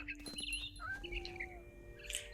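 A bird in the video game What Remains of Edith Finch chirps and tweets in a few quick, close, bright calls over soft ambient game sound.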